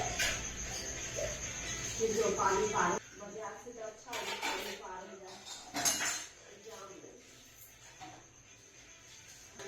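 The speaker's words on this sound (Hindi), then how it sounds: "माँ यहाँ पे धो रही है बर्तन" Dishes and pots are washed by hand at home in the early morning, with steady clinks and scrapes of metal utensils under running water, fairly faint, while voices talk nearby.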